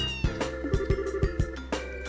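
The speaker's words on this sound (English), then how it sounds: "What's with the cat? His name's Antoine." Antoine the cat in the Trails in the Sky video game, heard as a short meow at the start over rhythmic game music with regular percussive beats.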